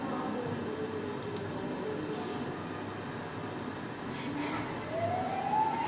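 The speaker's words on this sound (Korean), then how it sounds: "거리 위 저쪽 끝에서 요란한 사이렌 소리가 나타나서 점점" A fire engine siren rises faintly in the distance toward the end, under steady street and traffic noise, with no talking.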